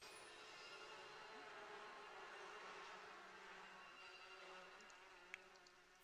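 Bees from The Sims 4 buzz around a Sim in the game, a faint, steady droning hum with no voices, ending in a single soft click.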